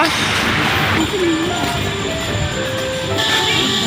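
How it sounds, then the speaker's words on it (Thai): A zoo tram ride carries a constant rumbling, rattling drone, loud and close throughout, with occasional squeals and people talking faintly over it. "เราขึ้นรถรางมาแล้ว"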